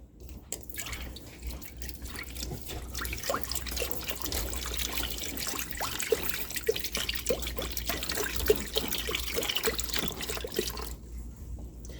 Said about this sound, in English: I'm going to add in my beef broth